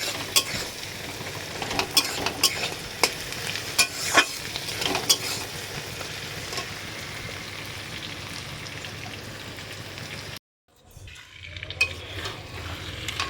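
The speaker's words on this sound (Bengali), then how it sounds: "এই যে মাংসটা কষাচ্ছি এখন" Mutton curry being stir-fried in a pan at home, a steady sizzle with frequent scraping and stirring clicks, close and moderately loud, then a brief pause before the frying resumes.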